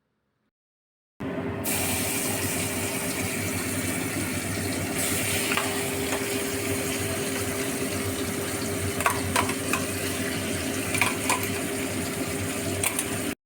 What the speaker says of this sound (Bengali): তারপর ওই কড়াইতে তেল গরম করে সমস্ত উপকরণটা দিয়ে দিলাম।